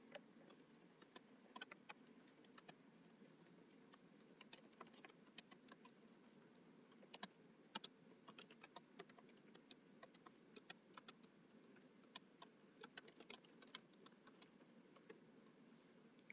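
Steady, quick typing on a computer keyboard while entering paragraphs in Word 2019, close and clear, with occasional heavier key strikes for Enter and no talking over it.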